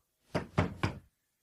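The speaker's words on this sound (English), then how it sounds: "When he got to the police station, he knocked at the door." Three firm, evenly spaced knocks on a police station door, an audiobook sound effect, close and solid with a hollow wooden thud, followed by silence.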